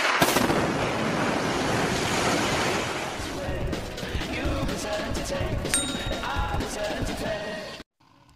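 An explosion in an old building from the film The Raid (2011): a loud, rumbling blast with a sharp onset, followed by sustained crackling debris and roaring noise that continues for several seconds before cutting out.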